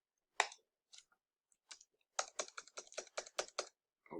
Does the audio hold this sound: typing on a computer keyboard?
yes